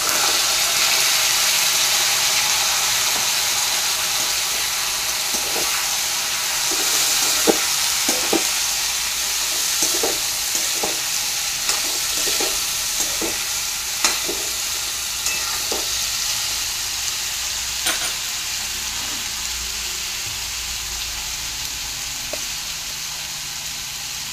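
Cauliflower, eggplant, potatoes and beans stir-fry in a pan with a steady loud sizzle, broken by repeated scraping stirs of a spatula throughout.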